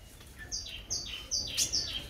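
A spiderhunter (pijantung) bird gives a series of about five sharp, high, descending chirps, close and clear over a quiet background.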